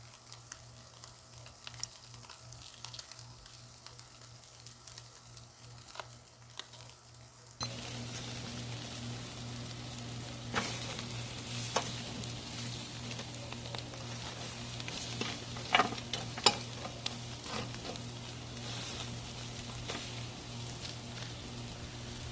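Ribeye steaks searing directly on hot coals over a hot fire: quiet crackling at first, then a sudden loud, steady sizzle with scattered pops and crackles running on and on, no talking.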